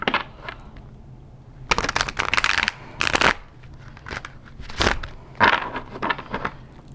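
A stiff, glossy tarot deck being shuffled by hand, with bursts of crisp riffling and snapping card noise separated by brief quieter pauses, close and clear with no talking.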